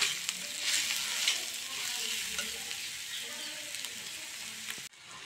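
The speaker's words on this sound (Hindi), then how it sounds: "अब हम सारे मसालों को अच्छे से मिला दे रही हूँ।" Spices for a kakoda (spiny gourd) curry sizzle and fry in a pan while being stirred, giving a steady hiss with scraping stir sounds throughout and a brief dip near the end.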